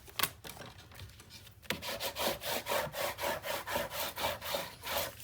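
Paper is burnished down onto a mini album panel, first with a few scattered handling taps, then a regular run of brisk rubbing strokes, back and forth, close and fairly quiet.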